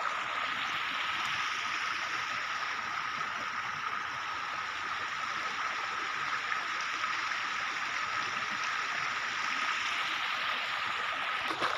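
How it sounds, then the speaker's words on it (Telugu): Rainwater runs steadily through a stream beside farm fields after rain, a continuous close rushing and gurgling with no breaks and no voices. "కానీ నీళ్ళు అయితే ఇంకా బాగానే పారుతున్నాయి"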